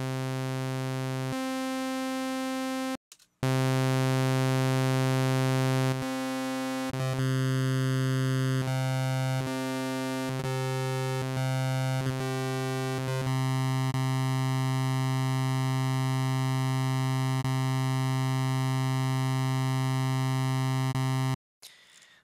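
A Zebra2 software synthesizer plays a steady saw wave through a comb filter with a 1 millisecond delay, a bright buzzing tone whose harmonic pattern shifts in distinct steps, held loud and continuous for about twenty seconds.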